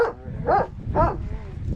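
Two or three short barks and yips from a dog sound close by, spaced about half a second apart over some low background noise.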